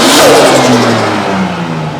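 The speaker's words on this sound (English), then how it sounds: "now we can actually rev this thing" A Nissan RB25 engine in an S13 drift car revs loudly and close on a dyno, its pitch sliding down as the revs fall away.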